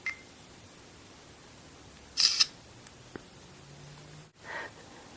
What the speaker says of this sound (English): Now let's just try to take a real shot here.